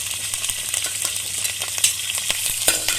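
Green chillies hit hot oil in a pan for a mackerel curry, letting out a loud, continuous crackling sizzle with sharp spitting pops throughout.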